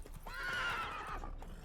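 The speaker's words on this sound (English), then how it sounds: "Spooking my horse." A horse in The Witcher 3: Hearts of Stone, spooked by a ghost, lets out a single fairly quiet, wavering whinny lasting about a second, rising and falling in pitch over low background noise.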